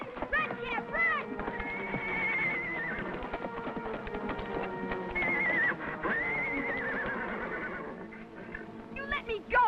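A horse whinnies in long, shrill neighs, with hoofbeats and clattering beneath, while voices shout over the commotion.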